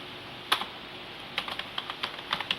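Quiet keystrokes on a computer keyboard entering data into Excel: one isolated tap, then an irregular burst of several quick clicks close to the microphone over a faint background hiss.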